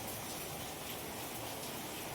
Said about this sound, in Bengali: এইভাবে আমরা আরো একটু পরোটা ভেজে দেখিয়ে দিচ্ছি আপনাদের।